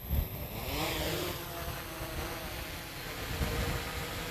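A hexacopter drone lifts off, its six motors giving a steady whirring drone that climbs slightly in pitch, heard fairly close with light wind and handling bumps and no talk.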